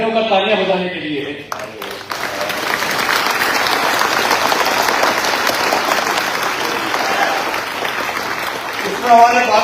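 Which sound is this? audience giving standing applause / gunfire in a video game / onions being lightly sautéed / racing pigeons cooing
audience giving standing applause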